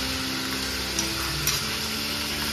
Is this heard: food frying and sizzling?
yes